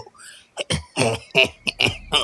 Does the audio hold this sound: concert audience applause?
no